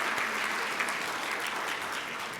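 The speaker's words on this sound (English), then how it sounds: "Let's give them a round of applause." A room of Rotary meeting attendees applauds steadily for a couple of seconds, a dense, even patter of clapping heard from within the crowd.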